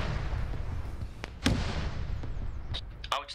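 Plasma gun fire in a Warhammer-themed multiplayer battle, Slaaneshi against the Imperium, lands as several sharp distant bursts over a rumbling battlefield, with a louder crack near the end.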